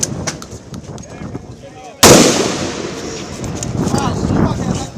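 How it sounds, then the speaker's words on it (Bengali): Gunfire aimed at students, with magazine after magazine emptied: scattered sharp pops lead up to a single loud, close crack, followed by a sustained roar of shooting and noise. "ম্যাগজিনের পর ম্যাগজিনের গুলি চলে শিক্ষার্থীদের উপর।"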